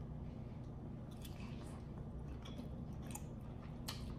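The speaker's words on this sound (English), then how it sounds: "First egg going down. I'm just gonna eat it" Close, wet chewing and squishing of a pickled egg being eaten, soft rhythmic bites over a steady low background hum, without talk.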